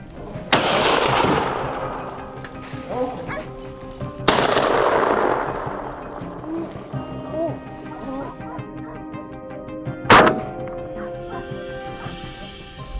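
Repeated gunshots ring out during a wild boar hunt in steep, rugged mountain terrain, three sharp loud reports spaced several seconds apart, each trailing a brief echo, with faint voices and dog barks in between.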